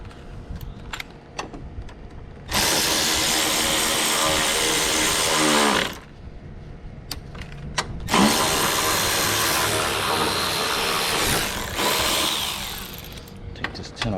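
A power tool whirs in two sustained bursts while removing a 10 mm bolt from the bumper of a 2011–2013 Infiniti JX35, with a short pause between bursts and scattered clicks and handling noises around them.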